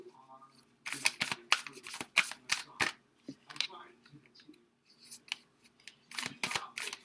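Tarot cards being shuffled during a Sagittarius reading, heard as quick bursts of crisp riffling and slapping in irregular clusters, close and moderately loud, with quiet pauses between them.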